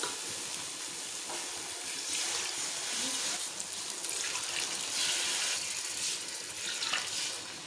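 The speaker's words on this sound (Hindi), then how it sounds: "अब हम इसमें पानी ऐड कर लेंगे।" Water poured into a pot of fried masala for a Sindhi-style fish curry, a continuous splashing rush with a faint sizzle underneath, steady and fairly close throughout.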